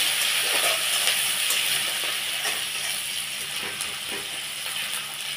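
Chopped onions and a small-fish curry are stirred in a hot pan, giving a continuous close sizzle broken by irregular scraping clicks of the spatula, with no talking.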